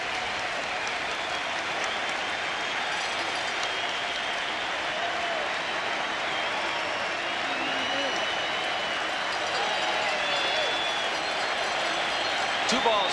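Sustained roar of a packed baseball stadium crowd cheering and clapping at a 1995 American League playoff game between the Yankees and Mariners, dense and steady throughout, swelling slightly toward the end.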